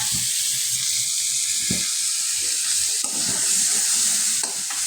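Potatoes and jackfruit seeds sautéing in a pan of spiced coconut milk, with a steady sizzle and several scraping stirs of a spoon against the pan.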